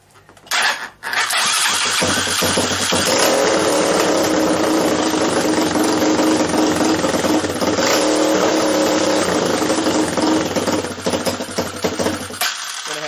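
A minibike engine fires up and runs loud and close during carburetor mixture tuning, a steady buzzing roar with slight wavering revs held for over ten seconds before cutting back near the end.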